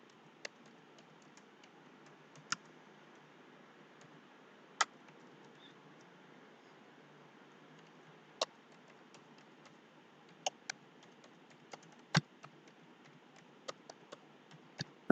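Sparse keystrokes typed on a computer keyboard into a document, scattered irregular clicks with a few louder taps over a faint steady room hiss, close and quiet, no talking.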